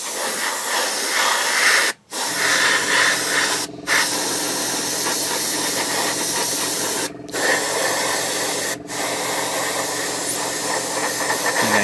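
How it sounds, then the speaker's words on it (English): Compressed air blasts in short bursts at close range while dust is cleared from a 1/35 Takom British Chieftain Mk 10 model tank. Loud, steady hissing spray is broken by four brief pauses. "Quick blast of air. Just make sure there's no dust on there."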